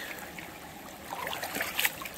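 Water flows in a cool creek during gold panning in North Carolina, a soft gurgling trickle that grows a little livelier toward the end, faint and close, no speech.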